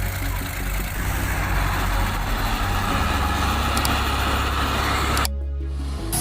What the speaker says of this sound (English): The roar of the engine mixed with the sound of rain falling.